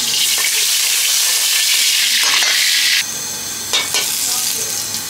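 Hot oil in a pan on a restaurant stove, where a chef is making chicken fried rice, gives off a loud, close, continuous sizzle that drops slightly partway through, with a few sharp spatters.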